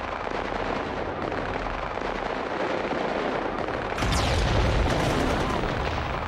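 Dense, continuous rumble of automatic weapons, 50-calibre guns, tank fire and explosions on a film set, growing louder and heavier partway through with a deep booming surge; no clear voices.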